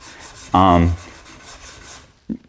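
A hand-pulled strap sander stripping a wooden surface gives one short, loud, rasping rub with a squeaky tone, then a fainter scuff a moment later.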